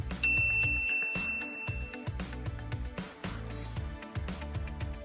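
A notification bell sound effect, a bright ringing ding that sounds early and fades, over a thumping rhythmic music bed that continues throughout.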